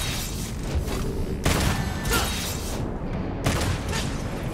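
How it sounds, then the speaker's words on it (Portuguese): Video game gunfire in Devil May Cry 5, with dense bursts of shots and booming impacts over a continuous loud mix of game sound effects and music. "Vou tentar dando tiro mesmo."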